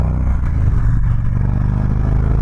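A Victory Cross Country Tour motorcycle with a 106ci engine accelerating, its loud, deep, steady engine roar running the whole time with mechanical clatter and no voices.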